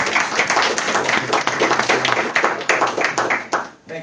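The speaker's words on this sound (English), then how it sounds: "So can we have a round of applause for" A room audience at a community voting campaign event gives a round of applause, dense and steady clapping fairly close and loud, tapering off at the end.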